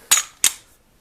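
Two sharp, close trigger clicks from a Ruger P95 pistol being dry-fired and reset, about a third of a second apart, clean and alone.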